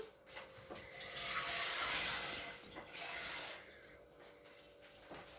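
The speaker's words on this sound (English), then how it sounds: "Get some water in a saucepan." Water runs steadily from a tap into a saucepan, a broad hissing splash that swells and eases, with a few light clinks from a pot or utensils.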